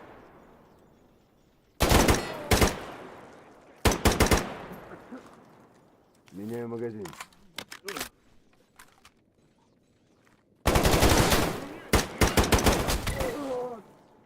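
Automatic fire from a 20-round magazine gun in the video game GAMMA rips out in loud, close bursts: two short volleys early on, then a longer sustained string near the end, with quieter gaps between them.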